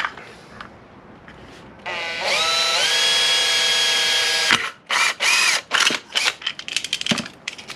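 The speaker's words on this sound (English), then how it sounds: "So if we drill this out" A power drill whirs steadily for a few seconds while drilling out an electrical box, winding up in pitch, then cuts out into several short bursts of drilling, close and loud.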